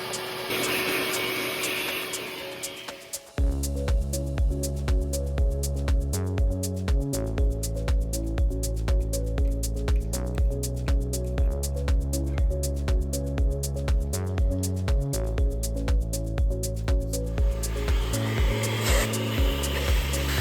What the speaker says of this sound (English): I will go ahead and get a vacuum put on it, and we'll go ahead and drill.